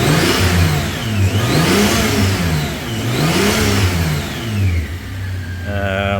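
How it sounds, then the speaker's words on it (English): A Toyota Land Cruiser engine with a knock sensor fault is revved several times, rising and falling in smooth repeated swells, then settles back to a steady idle, close and loud. "So let's give it a rev"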